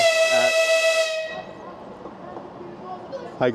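An Ivolga 4.0 train sounds a loud, sustained horn-like whistle as it pulls away from a station platform, then the tone cuts off, leaving low rumbling and station noise with a sharp sound at the end.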